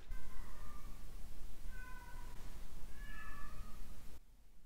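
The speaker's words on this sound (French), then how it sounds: "Il y a un chat qui est en train d'hurler à la mort." A cat yowls loudly in three drawn-out, wavering cries over a low background rumble, with the last call cut off abruptly near the end.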